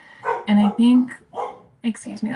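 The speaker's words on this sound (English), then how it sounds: "that's my dog" A dog barks a few times nearby, with short sharp yaps breaking through while a person speaks over them.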